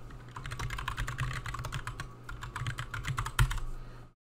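Rapid typing on a computer keyboard during an office-software lesson, a dense run of close key clicks lasting about four seconds before stopping abruptly.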